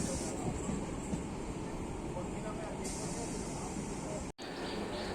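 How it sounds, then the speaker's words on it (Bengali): A train on the Howrah–Tarakeswar line pulls away from Loknath station with a loud, steady, close rumble of wheels and carriage noise that continues throughout with little change. "আমাদের ট্রেন ছেড়ে যাচ্ছে লোকনাথ স্টেশন"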